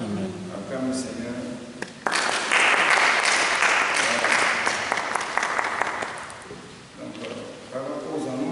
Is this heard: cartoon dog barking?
no